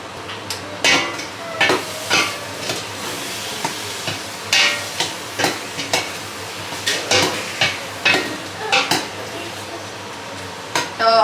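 Pork pieces for biryani frying in a hot pan, a constant sizzle with repeated spatula scrapes and clanks against the metal at a steady, uneven rhythm, close and fairly loud, without talking.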